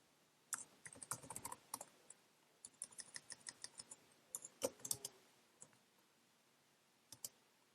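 Computer keyboard typing while writing HTML and CSS code, with quick irregular bursts of close key clicks that start and stop, then a few isolated taps near the end.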